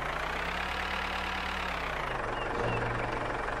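Tractor engine running in the video game Farmer's Life, a steady low rumbling drone that holds evenly and shifts slightly in pitch near the end.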